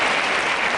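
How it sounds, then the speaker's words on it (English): A crowd applauds after a preliminary strongman bout, a dense, loud burst of clapping in a brief snatch with no voices. "listen to that applause"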